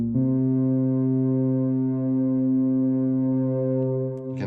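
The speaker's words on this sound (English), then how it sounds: "you can add a reverb" A wavetable synth tone from 4Pockets Oscidia, run through a reverb effect, holds as one loud, steady, buzzy note for about four seconds before it cuts off.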